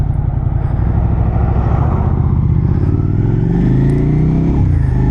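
A Honda VFR800 motorcycle engine revs loud and close, its harmonic drone rising and falling steadily over five seconds with no talk.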